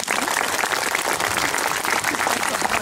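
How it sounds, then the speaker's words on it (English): Dense, steady applause rises from an audience at the Tasmania Medieval Festival after a falconry display, a continuous wash of many hands clapping at moderate distance with no voices standing out. "Can we get a big round of applause for our apprentice?"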